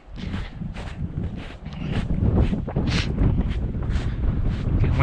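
Gusty wind buffets the microphone on a mountain hiking trail to Red Pine Lake in spring, a steady low rumble that swells louder midway with faint footstep-like rustles underneath, no talking.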